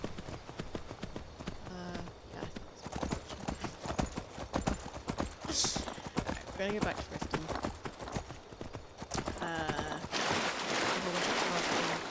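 A horse trots along in a modded Skyrim game, its hooves clip-clopping in a steady rhythm throughout while someone talks over it.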